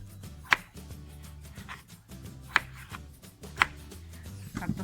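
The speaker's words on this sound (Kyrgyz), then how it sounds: "Bir килограмм картошкабызды турайбыз." A knife chops a kilogram of potatoes for a zharkop stew, giving three sharp, isolated knocks against a board over a low, steady room hum.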